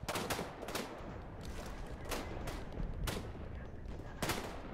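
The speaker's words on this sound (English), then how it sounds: "I'm gonna drop artillery right over there" Artillery barrage in the WWI video game Tannenberg: a dense, continuous roar of gunfire and explosions with several loud, sharp blasts standing out at irregular intervals, heavy and sustained throughout.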